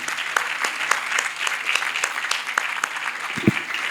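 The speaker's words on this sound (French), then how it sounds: "Il mérite vos applaudissements nourris." An audience at a ceremony applauds warmly, a steady, close patter of many hands clapping with sharp individual claps standing out and no talking over it.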